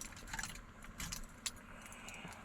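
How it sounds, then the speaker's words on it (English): A set of GM car keys jangles in quiet, close bursts of metallic clinking, a few separate shakes over a couple of seconds with a faint background hum. "Good old GM keys."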